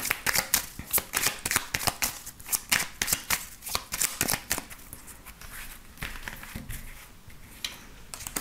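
Tarot cards shuffled for a reading make rapid, close riffling flicks in quick bursts, fading into softer, sparser card slides near the end.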